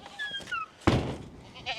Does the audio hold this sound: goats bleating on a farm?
yes